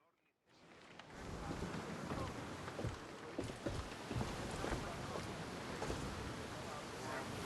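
The ship Adrestia under sail at sea in the video game Assassin's Creed Odyssey, a steady full wash of water and creaking wood that rises after a brief quiet opening and holds on evenly with small knocks throughout.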